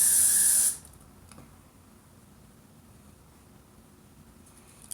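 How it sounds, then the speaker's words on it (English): Hairspray is sprayed onto hair in one short, loud, close hiss lasting under a second, followed by near silence with faint handling noise. "you just spray it, turn it, and roll it"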